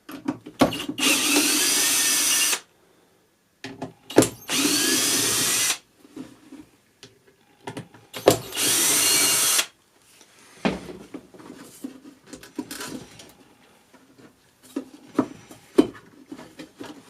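A power screwdriver whirs in three bursts of about two seconds each, backing screws out of a Marshall combo amplifier, with quieter handling clicks and rattles between and after.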